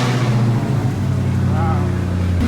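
A Dodge Hellcat engine rumbles loud and close in a deep, steady idle with a slight rise in revs, while people talk over it.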